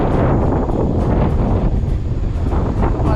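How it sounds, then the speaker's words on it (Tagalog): Strong wind buffets the microphone at an orange farm in Hsinchu, Taiwan, a loud steady roar of gusts that rises and falls without pause and with no talk over it. "lakas kasi ng hangin."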